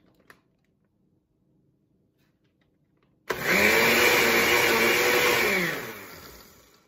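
An electric kitchen blender whirs loudly as it blends a herbal remedy, starting abruptly after near silence, running steadily for a few seconds, then winding down as the motor slows.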